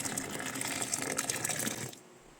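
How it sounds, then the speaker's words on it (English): Four cups of hot water are poured into a sink drain over a drain-clearing mixture, making a close, steady gushing splash that stops abruptly after about two seconds. "let's finish this off with 4 cups of hot water"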